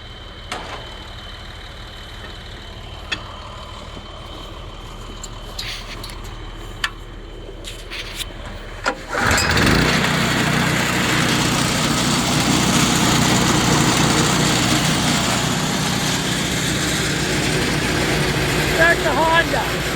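A Honda engine sits quiet through faint clicks and rattles, then cranks and catches about halfway through, settling into a loud, steady running roar close by.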